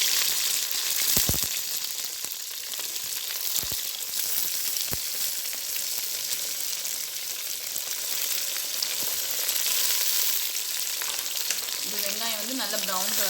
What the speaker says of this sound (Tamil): வெங்காயம் வந்து நல்ல ப்ரௌன் கலரில் வதங்கணும்.